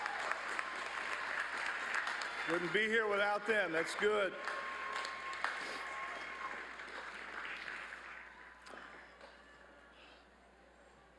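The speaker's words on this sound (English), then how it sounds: "find your parents in the audience and give them a big round of applause" Graduates at a Southern Illinois University Carbondale spring commencement applaud their parents in the audience; a loud swell of clapping fills the hall, then slowly fades, while a speaker talks briefly over it.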